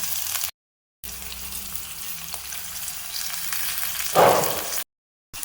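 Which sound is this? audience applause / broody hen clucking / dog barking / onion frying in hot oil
onion frying in hot oil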